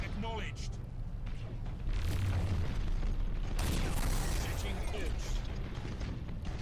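Torpedoes strike ships in the space battle game Battlefleet Gothic: Armada, heavy booming impacts rolling over a low rumble with mechanical clanks, while someone talks over the battle.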